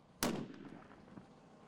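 Long-range rifle shot at a shooting competition: one sharp, loud crack with a brief rolling echo trailing off outdoors, no voices.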